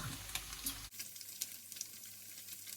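Pork sizzling and frying in a pan, a steady close crackle that changes character partway through, with no voices.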